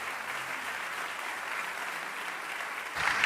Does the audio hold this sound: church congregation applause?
yes